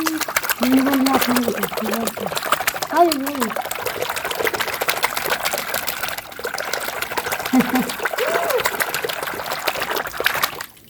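Water trickles and splashes lightly as a child with a fever is set into it, a continuous close wet patter under a woman's speech and a few child sounds.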